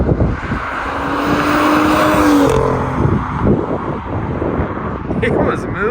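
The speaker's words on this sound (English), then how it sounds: "That overrun sounds so cool." A BMW E9x with an N55 engine and short intake burbles and crackles on overrun as it passes close by, over heavy wind buffeting on the microphone.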